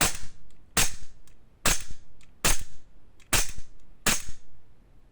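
A Sig Sauer P320 Pro Wilson Combat custom airsoft pistol fires six sharp, evenly spaced snapping shots, roughly one every second, with softer mechanical clicks between them and no talk.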